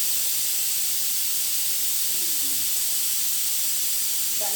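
A pressure cooker holding cooked urad dal with tomato lets out steam in a steady, continuous hiss, loud and unbroken from start to finish with no voices.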